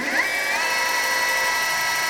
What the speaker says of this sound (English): So I'm going to bring in my centering drill and drop some holes in those 2 marks.